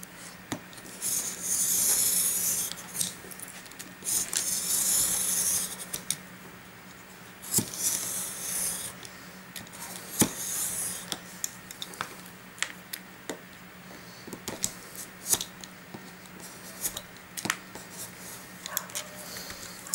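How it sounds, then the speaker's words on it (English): A knife slicing paper against a ruler, with repeated scraping strokes and light scratchy rasps coming close and at an irregular pace, some stretches louder and longer, others only brief clicks and taps. "sliced off all the paper"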